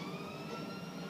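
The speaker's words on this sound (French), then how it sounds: "il y a un avion de chasse" A fighter jet passes overhead in GTA Online, a faint, sustained whine and roar that holds steady for about a second.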